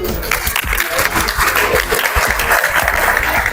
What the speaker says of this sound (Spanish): Más fuerte el aplauso, por favor